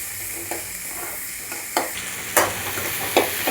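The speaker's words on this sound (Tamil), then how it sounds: "வெங்காயம் நல்லா வதங்கிட்டுங்க." Onions sauté in a pan for a South Indian pomfret fish curry, a steady close sizzle broken by a few louder scraping stirs, with no talking.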